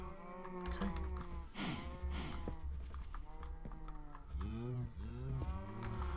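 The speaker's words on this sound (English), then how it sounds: "Now we have a cow. He wandered onto the conveyor belt." A Minecraft cow moos repeatedly in drawn-out, wavering calls close by, while keyboard typing clicks along underneath.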